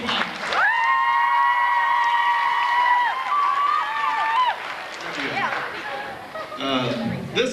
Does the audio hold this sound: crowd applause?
yes